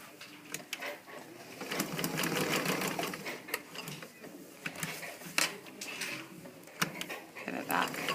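A sewing machine stitching a zipper, its fast mechanical chatter running in bursts with brief pauses and soft clicks between them, fairly quiet and close.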